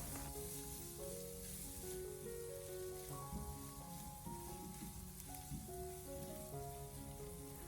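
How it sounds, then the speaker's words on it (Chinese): Diced pork sizzles steadily in a wok as ginger, scallion, garlic and bird's eye chili are stir-fried in its rendered fat, a constant close hiss under melodic background music. "我们再将切好的姜、葱、蒜还有小米辣放进来，然后再继续的将它煸炒一下"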